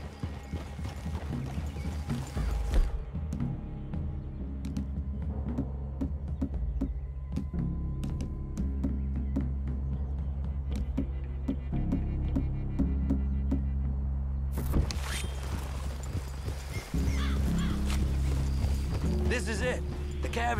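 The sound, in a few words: horses' hooves in Red Dead Redemption video game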